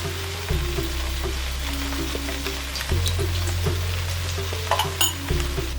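Steady sizzling of oil heating in a kadai, a continuous crackling hiss with a low hum underneath and a few sharper pops near the end.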